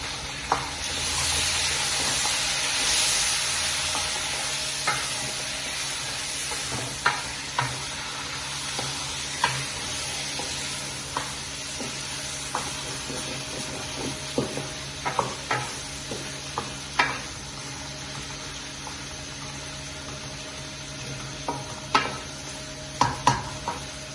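Chicken frying in a pan, a steady close sizzle with repeated clinks and scrapes of a spoon stirring against the metal, no talk over it.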